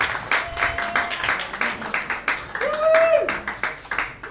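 Applause for a musician after his set at a live music venue, with moderate clapping from a small audience and a brief whistle or tone cutting through midway, voices faintly mixed in.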